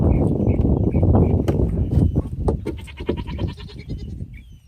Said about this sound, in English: I have a bunch of goats lined up saying hello.